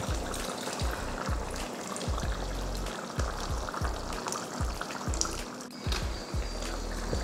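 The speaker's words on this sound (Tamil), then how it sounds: "நம்ம இந்த டைமில் புளி சேர்த்துக்கலாம்." Tamarind water trickles and splashes into a simmering brinjal tamarind curry, a steady close pour with bubbling and faint clinks throughout, no voices.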